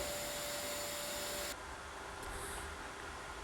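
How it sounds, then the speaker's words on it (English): A Eureka Forbes Ultimo Wet & Dry 1400-watt vacuum cleaner runs over a carpet with a loud steady roaring hiss, its tone shifting slightly partway through as it moves. "you can see it very clearly how the vacuum cleaner is sucking all the dust from the carpet"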